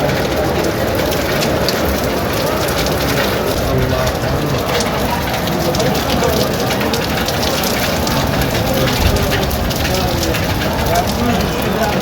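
Rain pours steadily at Masjid Nabawi in Madinah, a dense, even hiss of drops on the surfaces that holds at a constant loud level for the whole stretch, with faint murmuring voices beneath.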